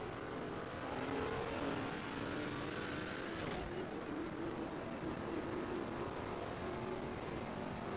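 A NASCAR 09 race car engine, the number 5 car, drones steadily and loudly throughout, with a continuous roaring hum that barely changes in pitch.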